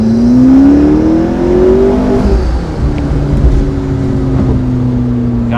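A 2015 McLaren 650S Spider engine pulls hard in sport mode, a loud, rising engine tone climbing through the revs, then dropping on a gear change and settling into a steady, droning roar.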